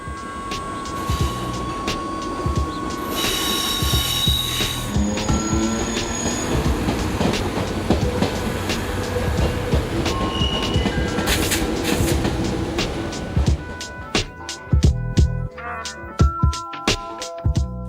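A train rolls along the rails with steady rumbling, screeching wheel squeal and metallic clatter, and a sequence of sharp rhythmic clicks near the end as the cars pass over joints; no voices.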